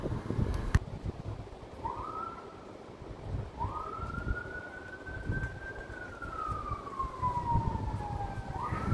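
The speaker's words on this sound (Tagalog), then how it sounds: "may wangwang" An emergency siren wails outside among tall city buildings, rising and sweeping in long drawn tones at moderate distance under a low traffic rumble, with no talking.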